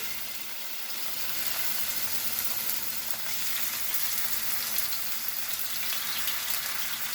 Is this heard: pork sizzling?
yes